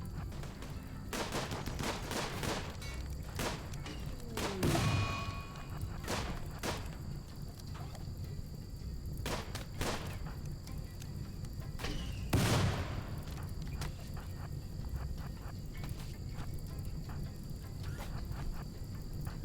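Colonists trade gunfire in RimWorld: sharp, scattered shots crack irregularly over a steady ambient bed for about twenty seconds, with a few louder bursts standing out.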